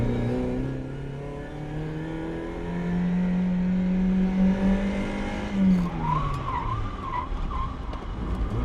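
A Mazda MX-5 Miata engine drones and revs steadily while tires squeal in a long drift, the revs rising and dipping as the car slides.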